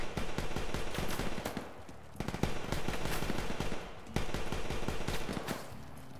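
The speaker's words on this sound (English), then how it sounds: "We're under fire." Sustained bursts of automatic gunfire rattle through a video game roleplay operation at a compound, with rapid shots layered continuously in three long volleys separated by brief pauses.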